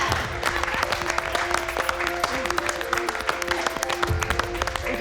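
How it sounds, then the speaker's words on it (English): A studio audience on a cooking competition show applauds with dense, crackling claps that hold steady for several seconds at moderate volume. Faint chatter sits beneath the clapping. "let's give them a round of applause."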